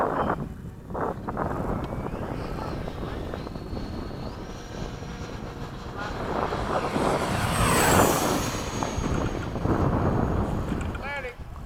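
A Freewing 80mm F-5 model jet makes a fast pass at a flying field, its whooshing ducted-fan roar swelling toward the middle and fading, heard through wind noise on the microphone.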